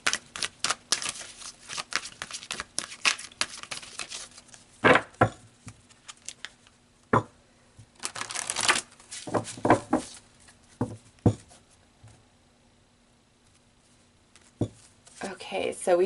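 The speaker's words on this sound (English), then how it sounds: "So let's pull some more cards here" Tarot cards are shuffled and drawn in bursts of papery flicking and riffling, with quiet pauses between, close and fairly loud.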